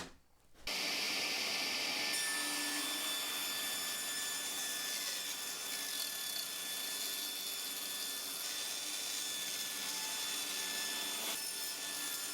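A saw cuts strips of hardwood offcuts set up with an Incra fence, giving a steady, loud, continuous whirring rasp that holds without a break for about twelve seconds, with no voices.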